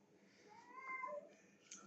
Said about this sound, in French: il miaule comme un gros matou